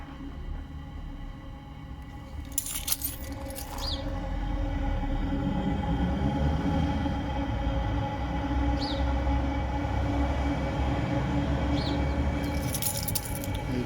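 A fuel-burning engine pre-heater fires up and settles into a steady low roar and rumble, close and continuous, with a few faint high squeaks and clicks above it.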